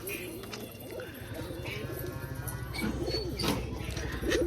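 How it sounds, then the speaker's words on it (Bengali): Pigeons in a home loft with nesting pairs and young birds coo in a soft, continuous low rumble of repeated throaty calls, fairly close, with faint rustling and occasional brief sounds over the steady cooing. "এই যে এক এক করে পায়রা বেরাবে, আর সব পায়রাগুলো নেমে পড়বে"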